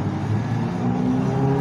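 Motorbike going past on a road, a steady engine drone with a rising whine that holds loud and close for the whole moment, with no talking.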